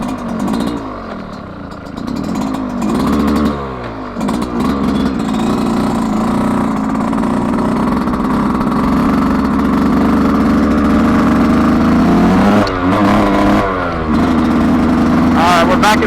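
Yamaha YZ125X two-stroke dirt bike running 32:1 premix, revving and pulling away from a stop, engine buzzing loud and close with rising and falling pitch through the gears.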